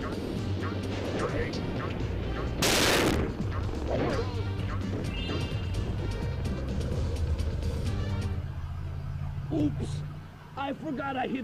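A sudden crashing blast erupts in the Spyro: Year of the Dragon video game, a short loud burst amid busy game sounds and music, with a person talking throughout.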